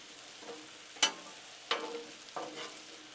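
Onions and chicken cook on a Blackstone griddle, a soft sizzle broken by three sharp scraping strokes of a spatula stirring and turning the food, heard close and fairly quiet.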